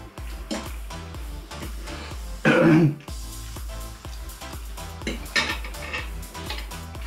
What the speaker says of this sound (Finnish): Sen verran on tuota chiliä, että kun vetää henkeä, sitä rupeaa yskittää.